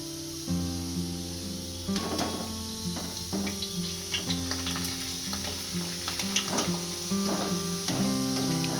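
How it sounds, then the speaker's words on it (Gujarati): Bhungla, potato pipe fryums, fry in hot oil with a steady sizzle, punctuated by repeated stirring and scraping knocks that recur every second or so, close and alone without talk. "આપણું તેલ ગરમ થઈ ગયું છે આ ભૂંગળા તળી લઈશું"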